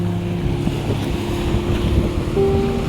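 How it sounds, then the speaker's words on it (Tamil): Gentle sea waves at a calm, pond-like beach in Kanyakumari, a steady low wash of surf mixed with heavy wind buffeting the microphone and a faint engine-like hum, with no distinct breaking crashes. "லைட்டாக தான் வந்து அந்த அலை வருது, தெரியுதா பாருங்க"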